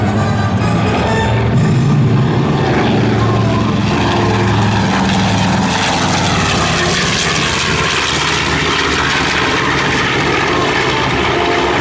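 A B-25 Mitchell bomber makes a level bomb run pass at an air expo, its piston engines and propellers roaring loud and continuous, swelling near the start and holding a dense drone throughout.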